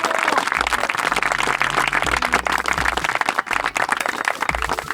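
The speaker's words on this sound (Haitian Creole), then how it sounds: "On bat un petit bravo pour ça qui pourra le faire ça" Applause from a studio audience on a Haitian variety show, dense clapping at close range that carries on steadily for a few seconds.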